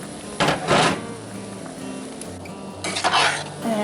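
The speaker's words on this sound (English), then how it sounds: "I'm just going to add the peas in" Thawed frozen peas tipped into a pot of potato kielbasa soup, giving two short bursts of rattling, clattering pot noise about two seconds apart, close and moderately loud over a low kitchen background.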